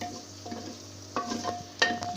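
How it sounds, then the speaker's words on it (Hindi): Onions sizzle softly in hot oil in a handi pot, with a few scraping stirs and spoon clinks against the pot standing out over the steady frying hiss. "अब मैं इसमें प्याज काट के डाल लूँगी।"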